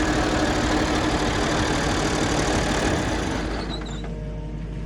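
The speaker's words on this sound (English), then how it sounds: "This is my favorite tractor on the whole farm. Even though it's kind of ratchet looking. It's a 1971 Massey Ferguson 1130." A 1971 Massey Ferguson 1130 tractor idles with a steady, loud, rough diesel rumble that settles slightly lower near the end.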